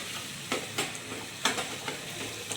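Tomato, onion and green garlic frying slowly in oil on low heat for pav bhaji, a soft steady sizzle broken by a few scraping stirs of a spoon in the pan.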